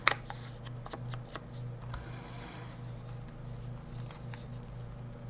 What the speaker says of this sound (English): I'm going to tear it a little bit more.